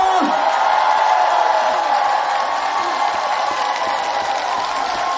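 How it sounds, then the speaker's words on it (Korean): A large outdoor crowd at a ginseng festival celebration concert claps and cheers for a trot singer, a broad continuous wash of applause with scattered whoops and shouts, steady and fairly loud throughout. "큰 박수 한 번만 주시겠어요?"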